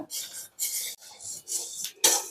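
Kurma masala spices are dry-roasted in a pan with dry rasping stirs and scrapes, several short strokes at close range and no voices.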